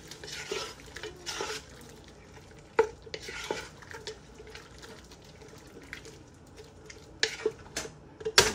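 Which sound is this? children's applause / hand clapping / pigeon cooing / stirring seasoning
stirring seasoning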